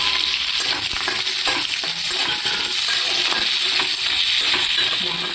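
Sliced onions and green chillies fry in a pan with a loud, continuous sizzle, broken by soft scraping and clinking as they are stirred.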